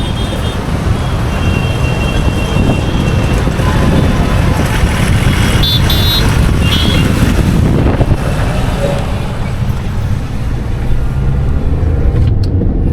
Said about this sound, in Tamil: டிராஃபிக்கை பார்க்குறீங்களா?